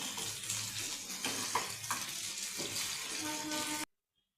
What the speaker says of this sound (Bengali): ভাজা হচ্ছে, কোনো অংশ কিন্তু ভেঙে যাচ্ছে না বা ফ্রাই প্যানের গায়ে লেগে থাকছে না খুব একটা বেশি।